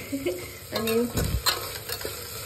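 Mustard seeds and asafoetida being sautéed in hot oil for a pulao tempering, with a spoon stirring and scraping in a pan, producing brief bursts of sizzle and clatter.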